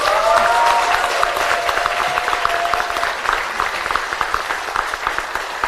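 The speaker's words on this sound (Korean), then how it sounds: "여러분의 선배, 우리들의 선배, 어머니, 누이들에게 박수를 한번 쳐드리고 싶습니다" At a political speech on women in politics, a crowded hall applauds with sustained, even clapping that fades slightly toward the end, with a brief whistle-like tone early on.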